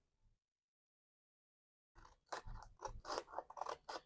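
Scissors cutting card stock for handmade thank-you cards, a short silence and then a quick run of close, crisp snipping crunches lasting about two seconds, no talking.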